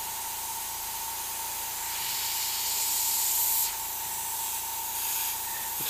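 Steady airbrush spray at 35 PSI, a continuous close hiss with a faint underlying tone that swells slightly midway and then settles, with no talk.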